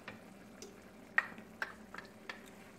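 Eggplant filling being stirred with tomato sauce in a pan for Greek stuffed eggplants, with a faint simmer under a handful of soft utensil scrapes and taps spread unevenly across the moment.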